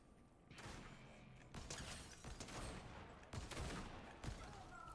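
Rapid bursts of gunfire in the video game Fortnite crackle through the mix, dense and sustained with several sharper shots standing out, heard from a live stream with no talking.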